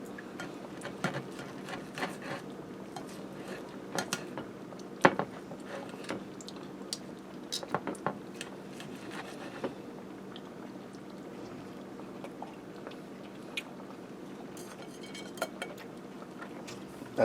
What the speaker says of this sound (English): I'll go ahead and cut into this pork chop.